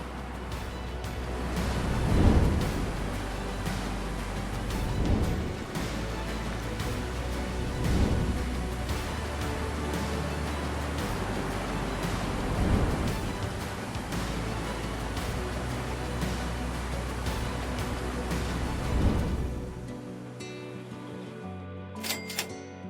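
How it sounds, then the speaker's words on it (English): An artificial waterfall formed by a dam on the Tsayevna River roars as a steady, broad rush of falling water, with gentle surges every few seconds, until the roar cuts off abruptly near the end. "I made it to Niagara Waterfall before sunset"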